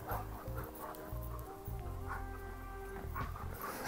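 A dog whimpers and whines in short, repeated high cries at a fairly quiet level, with faint clucking poultry-like sounds mixed in.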